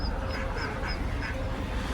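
Ducks quack in short, repeated bursts at close range during a baby duck rescue beside a nest, encountered on an outdoor bike ride, with steady low outdoor rumble underneath.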